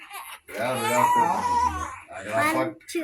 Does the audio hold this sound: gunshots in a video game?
no